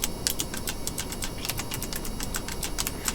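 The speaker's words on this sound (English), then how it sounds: "You can probably hear me tapping away at the keyboard." Rapid computer keyboard tapping during a Kerbal Space Program session, a steady stream of sharp, close clicks in irregular bursts over a constant low background hum.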